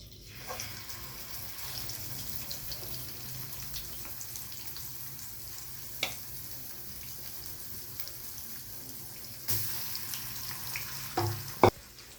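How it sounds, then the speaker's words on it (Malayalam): Fish frying in coconut oil for a Kerala-style fish fry on a low to medium flame, a steady soft sizzle throughout with a few sharp clinks and pops near the end, no talking. "ഒരു ലോ ടു മീഡിയം ഫ്ലെയിം വെച്ചിട്ട് നമുക്കിങ്ങനെ അത് ഫ്രൈ ചെയ്തെടുക്കാം"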